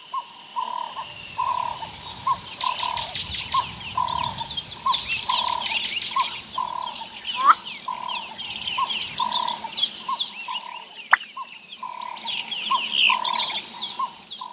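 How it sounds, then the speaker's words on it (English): A black-bellied bustard, a ground-dwelling bird of open South African savanna, repeats short popping, cork-like calls in a steady series over a thin background of insect and bird chatter, with no talking. "Because of this bird's unique call, which sounds like the pop of a champagne bottle, it's often referred to as the champagne bird."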